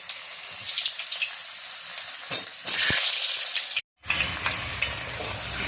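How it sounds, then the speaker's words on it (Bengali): Potatoes for stuffed aloo dum hiss and sizzle as they fry in oil over a medium flame, a loud, steady crackle that surges partway through and briefly cuts out. "এবার আলুগুলোকে তেলে ছেড়ে দিচ্ছি লাল লাল করে আলুগুলো আমি ভেজে নেব"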